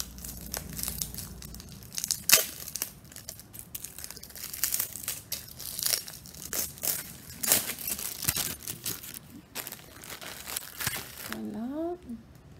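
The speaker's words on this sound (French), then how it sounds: "je vais ouvrir la toile devant vous" Plastic and paper packaging crinkling and tearing as a wrapped tiger canvas painting is opened, close rustles and sharp rips in irregular bursts, with brief speech mixed in.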